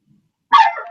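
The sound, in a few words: dog barking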